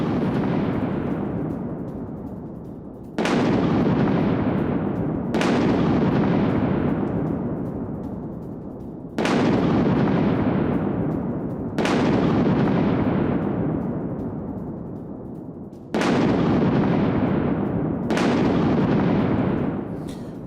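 Air strike explosions in Iran boom one after another, six heavy blasts spaced a few seconds apart, each with a sharp onset and a long rumbling decay, loud and without voices.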